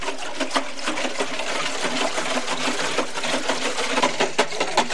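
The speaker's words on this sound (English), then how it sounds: "grab a whisk and stir until everything dissolves" A whisk stirs honey brine in a pot for a turkey, giving a steady run of quick scraping, clinking strokes against the metal, fairly close and continuous with no talking.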